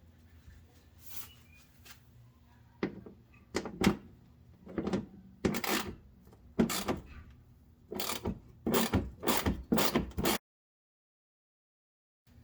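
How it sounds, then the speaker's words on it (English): A ratchet removing bolts from under the fender liner of a Toyota 4Runner, heard as quiet, close bursts of rapid clicking repeated a dozen times in uneven groups before falling silent. "right now I'm going to remove the bolts under here."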